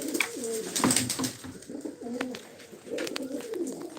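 Several pigeons coo in overlapping, throaty phrases, close by and fairly steady, with brief rustling in the background.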